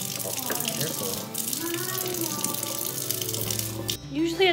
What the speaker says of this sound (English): Wash your face.